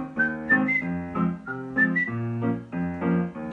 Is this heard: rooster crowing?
no